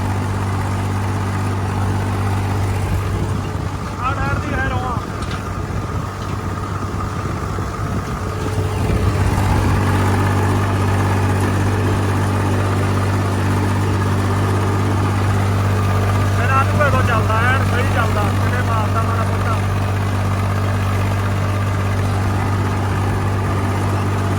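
A Swaraj 3602 mulcher tractor engine idles steadily in a farm field, a continuous low drone running under a voice for most of the clip.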